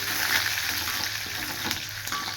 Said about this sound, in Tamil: இப்போ கடுகு பொரிஞ்சிருச்சு, ஜீரகம் போட்டிருக்கேன், பூண்டு, காஞ்ச மிளகா, கருவேப்பிலை இது போட்டிருக்கேன்.